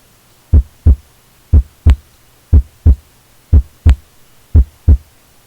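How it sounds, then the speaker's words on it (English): A pulse heard through a stethoscope in the surgery video game Surgeon Simulator thumps in five steady, loud paired beats over a faint background hum. "Continue to inflate the cuff until you stop hearing the sound of the pulse through the artery."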